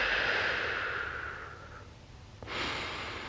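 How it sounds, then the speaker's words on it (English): Slow, deep breaths during a yoga neck stretch: a long, close exhale that fades out, then a brief pause and a sharper, airy breath drawn in, with no talking. "and then we just breathe"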